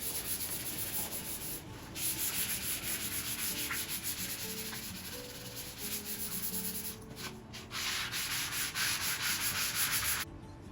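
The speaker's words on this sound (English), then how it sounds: "I'm just going to take my 320 grit sand block and just go over it a bit just to smooth it out" Hand sanding with a 320 grit sand block over a painted wooden sleigh bed, a continuous close, hissy rasp of back-and-forth strokes with brief breaks near the middle and end.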